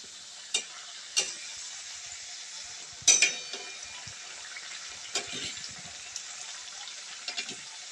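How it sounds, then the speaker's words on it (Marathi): Kapnya dough snacks frying in oil on low heat, a steady bright sizzle throughout with occasional louder pops and crackles, close and alone without talk. "चांगला ब्राऊन कलर येईपर्यंत भाजूया आपण"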